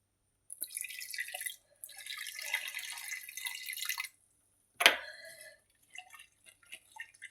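Water is poured from a vessel into a pan of thick curry paste, a close, steady splashing pour lasting a few seconds, then a sharp clink and a few scattered drips.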